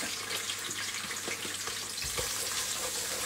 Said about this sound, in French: Là, je renverse les oignons.